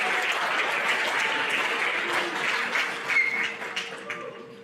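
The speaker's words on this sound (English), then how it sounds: "feel free to applaud in between each name" An audience at an eighth-grade school awards program applauds an attendance award recipient, steady, full clapping from a sizable crowd that fades off gradually toward the end.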